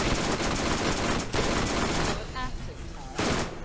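Video game gunfire rattles in a dense, loud burst of rapid shots, drops out briefly, then starts again, with game sound effects under it.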